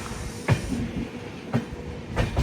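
The Shatabdi Express, train 12011 from New Delhi to Kalka, rolls along with a steady rumble and periodic heavy clacks of wheels over rail joints, heard from inside the train.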